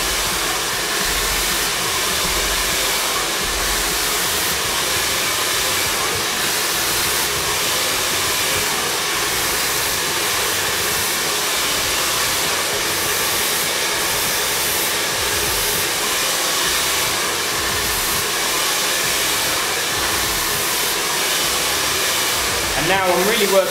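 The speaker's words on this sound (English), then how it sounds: "although I'm doing a straight blow dry, I want to create a little bend and bevel just so she can wear it sweeping over" A hair dryer blows continuously and loudly at close range while wavy hair is blow-dried straight, a steady rushing roar that barely changes for the whole stretch, with no clear talking.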